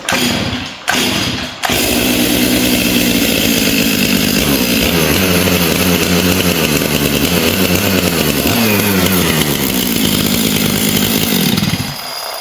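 A Stihl 500i chainsaw kicks off with a couple of short bursts, then settles into a loud, steady close-up roar with fluctuating revs for about ten seconds before cutting back near the end.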